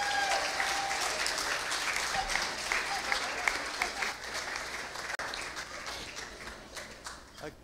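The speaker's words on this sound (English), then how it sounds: "give Anita a round of applause" An audience at a church baptism service applauds for Anita in steady, dense clapping that carries on throughout, with a few voices mixed in.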